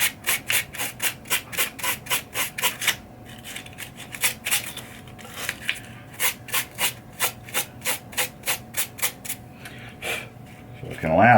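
Green scrubby pad rubbed back and forth over the worn shooter lane of a pinball machine, giving rapid rhythmic scraping strokes in close-up bursts with short pauses between runs.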